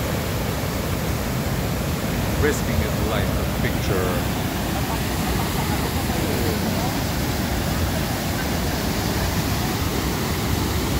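Kicking Horse waterfall in Yoho National Park, British Columbia, a loud, constant roar of rushing water, close and unbroken, with a voice talking faintly over it.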